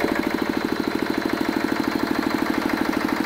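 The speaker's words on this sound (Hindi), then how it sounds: "ये आप देख सकते हो जेनसेट स्टार्ट हो चुका है" A 10 kVA diesel generator with a 14 HP water-cooled engine runs steadily after a push-button self start, a close, loud, even chugging throb with a fast regular pulse and no talk.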